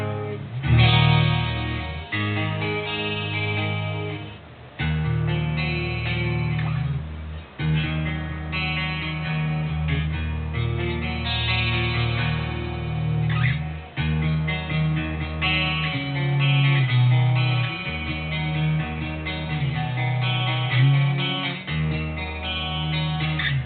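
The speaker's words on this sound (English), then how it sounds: "Nice chimey sound out of the Les Paul." Gibson Les Paul electric guitar on a split single coil, clean tone with boost engaged, playing about twenty seconds of close, sustained chords and picked notes with no talking.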